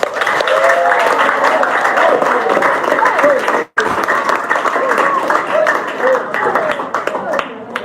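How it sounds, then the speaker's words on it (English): A conference audience gives a teacher a sustained round of applause, dense and loud for several seconds with a brief break, as a voice speaks over the clapping. "You don't clap for your teacher?"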